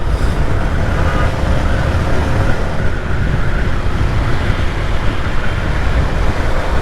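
Dense road traffic and rushing wind roar steadily and loudly around a motorbike ridden in rain on a busy road, a continuous close wash of engine and tyre noise with no talking.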